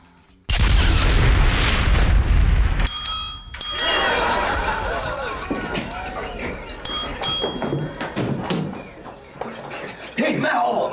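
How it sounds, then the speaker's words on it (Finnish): An indoor doorbell rings in two short bright bursts, the first after a long, loud rumbling noise and the second a few seconds later, with quieter room noise in between. "Jos ei tuo ovikello rupee pian soimaan"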